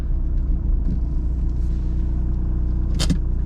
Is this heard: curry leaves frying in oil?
no